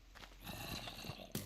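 A horse in Minecraft gives a short, faint snort and whinny with a few soft thuds over steady game background.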